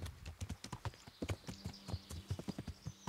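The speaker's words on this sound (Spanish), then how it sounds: "Estoy dando aquí más vueltas con el caballo." Horse hooves clip-clop in the video game Kingdom Come: Deliverance as a rider circles around, an even run of close, rhythmic hoofbeats with no talking.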